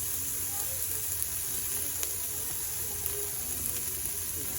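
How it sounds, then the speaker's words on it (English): Steady, soft sizzling from onion sautéing in a pot, a continuous crackly hiss with faint pops, no voices. "Ooh, nice little sizzle there."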